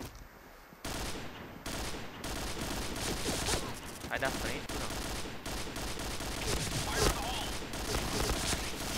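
Sustained automatic gunfire in the online first-person shooter Point Blank, dense sprays and bursts that follow a short gap near the start, with a player talking over the shooting.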